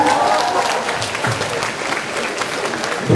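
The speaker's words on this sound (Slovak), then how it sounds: "Prosím, privítajte ho potleskom." A school audience at a 2014 matriculation ceremony in Trnava gives a guest, cyclist Bruno Sagan, a loud round of applause, dense clapping that stays fairly constant with a faint voice early on.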